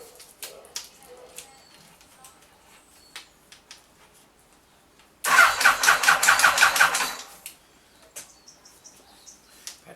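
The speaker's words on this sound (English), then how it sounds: "turn the bike on, may or may not start" A Yamaha FJ1100 motorcycle with a loose wire and a weak battery cranks over in a single loud burst of fast, rapid starter pulses lasting about two seconds, then falls back to quiet.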